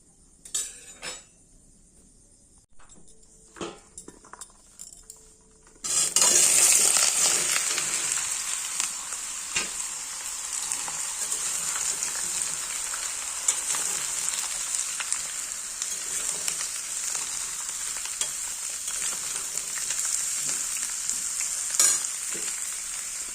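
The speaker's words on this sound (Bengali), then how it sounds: "এই যে সবজিগুলো এবার ভেজে নেব কড়াতে দিয়ে দিয়েছি সর্ষের তেল" Vegetables for khichuri hit hot mustard oil in a kadai. After a few quiet seconds with faint clinks, a loud, dense, sustained sizzle starts and crackles on steadily with no one talking.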